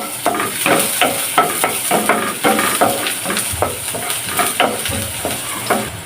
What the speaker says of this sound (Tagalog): Maggisa na tayo guys. Lagay natin ang bawang.